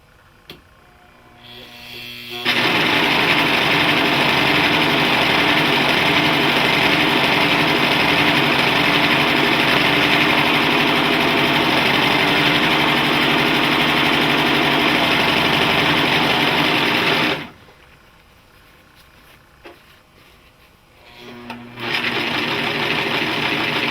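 A Singer Professional Five serger sewing machine runs in a loud, steady whir for about fifteen seconds, stops briefly, then starts up again near the end, with no talking over it.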